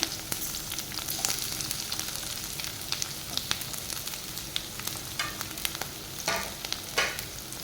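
Green chillies and onions frying in oil in a pan, a steady crackling sizzle throughout with occasional sharper pops and spatters, close and moderately loud, no voices.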